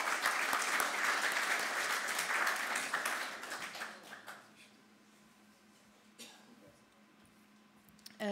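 A meetup audience applauds loudly for about four seconds, a dense wash of clapping that trails off into near quiet with a few scattered claps.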